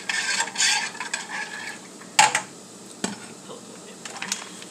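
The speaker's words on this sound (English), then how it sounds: "just gonna stir this up" Gumbo being stirred in a pot, close scraping and clinking strokes of a spoon against the pot over a low bubbling sizzle, with a sharp knock partway through.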